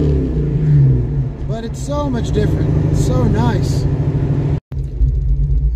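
A Foxbody Mustang's engine rumbles steadily at idle after its exhaust leak was repaired, a loud low drone heard from inside the car beneath a person talking.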